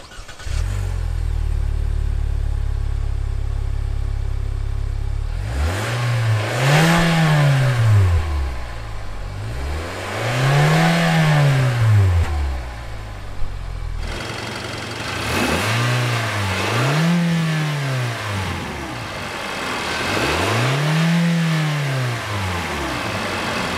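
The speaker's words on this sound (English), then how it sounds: "And with that engine that you heard, it sounds okay. It's a four cylinder." A 2016 Kia Soul four-cylinder engine idles, then is revved four times in spaced bursts, each rising and falling smoothly, loud and close with no talking.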